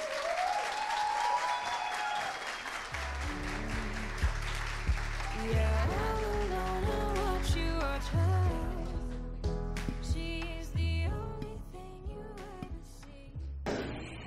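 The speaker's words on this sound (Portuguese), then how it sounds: "Peço que vocês recebam com carinho, com uma salva de palmas" An audience at a motivational lecture applauds to welcome a psychologist onto the stage, steady clapping that keeps going as a bass-heavy musical backing swells up beneath it.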